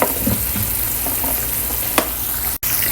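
Vegetables land in a hot frying pan beside cooking fish and soy sauce, setting off a loud, continuous close-up sizzle with a few sharper spatters and a brief cutout near the end.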